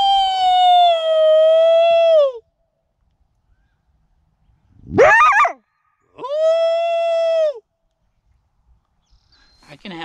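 Long sustained coyote howls, one after another with pauses between them, sound close and loud, along with a brief yip-like burst in between.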